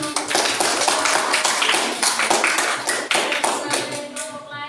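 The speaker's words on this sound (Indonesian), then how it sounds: "Kita beri aplaus." A classroom of students applauding a group presentation, dense rapid clapping from many hands held steadily for several seconds, fairly close and loud, trailing off at the end with a few scattered claps.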